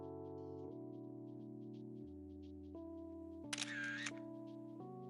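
A camera shutter clicks in the American Truck Simulator game, a brief bright burst over a steady droning truck engine and in-game tones.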